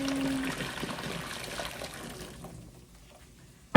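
Water running and trickling steadily as a descaled item is rinsed, fading toward the end before a sudden knock.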